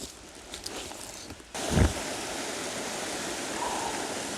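Steady broadband rush of creek water flowing close by on the Jack Carter River, with a brief louder splash or scoop partway through and some faint rustling before it.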